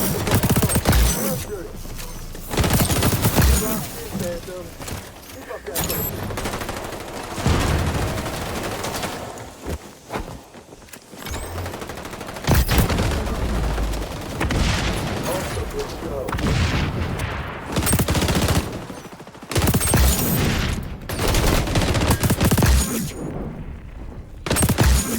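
Enemy gunfire in the shooter game XDefiant, with bursts of rapid shots and impacts coming in waves and broken by brief lulls, heard under a player's commentary.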